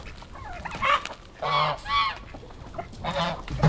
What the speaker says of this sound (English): These birds just go nuts.